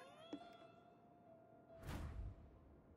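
A faint, short cat meow sounds in the Ghostwire: Tokyo video game, a brief tonal cry followed by a soft whoosh against quiet background ambience.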